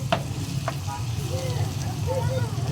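Liver with green peppers frying on a street food cart, a steady sizzle under a low engine-like rumble, with occasional metallic taps of stirring and a voice talking over it.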